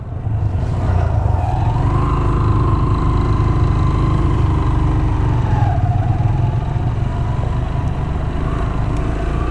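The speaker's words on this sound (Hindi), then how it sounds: "इस पे बाइक स्लिप होती है VIP करके।" A motorcycle rides a rain-softened mud dirt track near Kirthar National Park after monsoon rains, its engine droning steadily and loudly throughout, with a slight pitch rise and fall in the middle.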